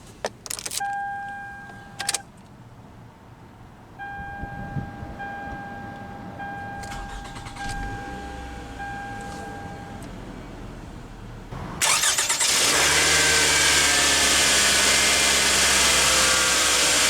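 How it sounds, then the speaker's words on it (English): Clicks and a soft chime come from inside a 2009 Toyota Camry LE before its engine cranks and fires, settling into a steady, close idle. "let's go ahead and start the engine"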